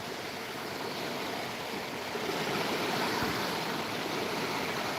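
The Sutlej river in high water rushes in a steady, loud, broadband roar that holds unbroken throughout, with no voices over it.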